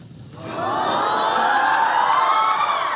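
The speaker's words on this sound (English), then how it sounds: "It's met with huge applause and cheers." A studio audience bursts into loud cheering and applause, with whoops and shouts rising within the first half-second and a continuous roar holding steady and strong throughout.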